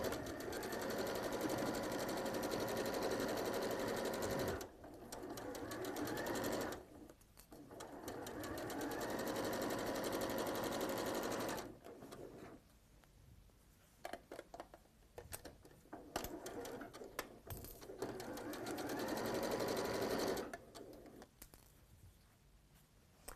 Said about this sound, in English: So we'll sew those together to begin with. Again, using just your 1/4 inch seam allowance.